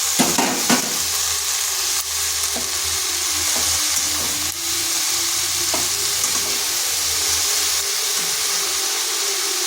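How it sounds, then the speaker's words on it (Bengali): Spinach added to lightly fried spices with turmeric in a pan: a steady, loud sizzle runs throughout, punctuated by occasional clicks and scrapes of stirring, with no voices. "হালকা একটু মশলাটা ভেজে নিলাম, দিয়ে দিচ্ছি শাকগুলো।"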